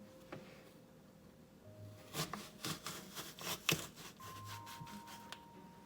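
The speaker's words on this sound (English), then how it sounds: "We're going to use this little apple gadget I got and take out the cores." Small apple corer gadget pushed through fresh apples, giving faint crisp crunching and scraping bursts in quick clusters, quiet and close.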